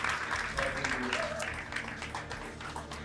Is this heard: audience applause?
yes